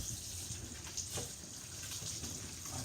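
Running tap water splashes over lettuce and carrots as they are rinsed, a steady, close flow with small splashes and surges of water against the leaves.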